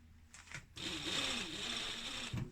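An overlocker whips along the in-leg side seams of a pair of trousers in one short steady burst of fast mechanical stitching, quiet and close, framed by brief handling noises.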